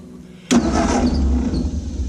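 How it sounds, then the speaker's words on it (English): A Ford 8N tractor's starter is bumped briefly, giving a sudden loud clunk and a short burst of mechanical cranking whir that continues for about a second and a half, close by with no voices. "I'm going to bump the starter over and see which direction this turns"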